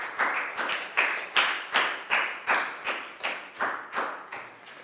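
A class of pupils claps in a Year 4 health lesson, a dozen or so bursts of clapping arriving in a quick, even rhythm at a moderate distance.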